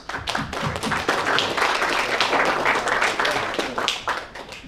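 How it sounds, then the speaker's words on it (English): Steady applause from a crowd, a dense patter of many hands clapping throughout, fairly close and lively. "Big applause."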